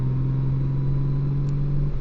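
A 6th-generation Honda Gold Wing motorcycle in sport mode gives a steady, even engine drone that holds constant and close for the whole moment, with no talk.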